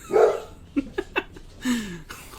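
A pet dog named Rocky barks in a room: a short loud bark, then three quick sharp yips, ending in a drawn-out whining bark, close and alone.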